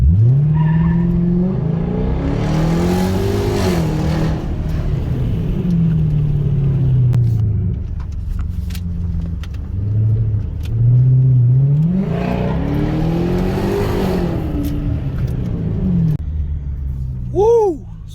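Hyundai Genesis 5.0 V8 with a throttle-response pedal module, pulling hard in Sport Plus with traction control off: two long, loud, rising engine roars climbing through gears, each ending in a drop back to a rumbling cruise, with a brief chirp at the end.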